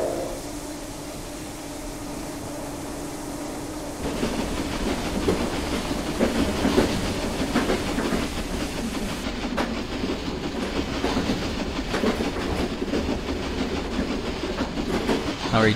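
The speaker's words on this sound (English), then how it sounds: "That's the freight train passed" A freight train passing at close range, a loud continuous rumble with rhythmic clickety-clack of wheels on rail joints that swells partway through and holds steady, with no talking.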